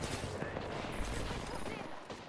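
Dense, rapid gunfire from a shooting video game forms a thick, continuous wall of shots and bursts, loud and busy throughout, with faint voices underneath.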